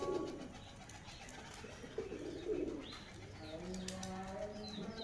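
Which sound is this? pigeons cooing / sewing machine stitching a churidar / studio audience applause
pigeons cooing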